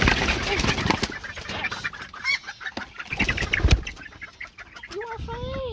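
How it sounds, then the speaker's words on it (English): Buff Orpington chicks kept among other chickens give scattered short peeps and clucks close by, mixed with bumps and shuffling, ending in a few clear rising chirps. "Oh, you're scaring the chicks, Tulip"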